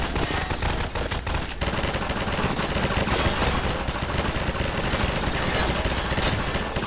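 Sustained machine gun turret fire in Half-Life 2, a dense unbroken rattle of rapid shots filling the whole stretch, loud and close with no talking.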